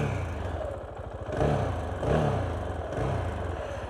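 A KTM Duke 690 single-cylinder motorcycle engine idles loud and close, then blips its throttle in three short revs spaced about a second apart.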